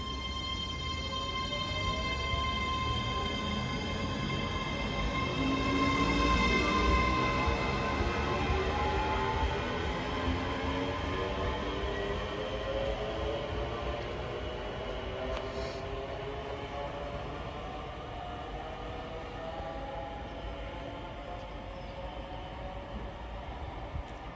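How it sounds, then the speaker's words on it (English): A ScotRail train pulls out of Haymarket station, its motors rising in a long climbing whine over rumbling wheels, steady and fairly close for nearly half a minute. "departing out now is the 1527 ScotRail service from Glasgow Queen Street to Edinburgh Waverley"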